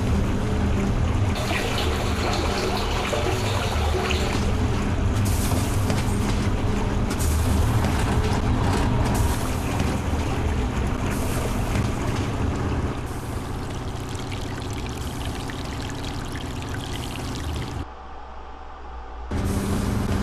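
A boat engine in Silent Hill Homecoming runs after refuelling, a steady mechanical drone with water and wind noise that holds for most of the stretch, briefly drops near the end, then returns.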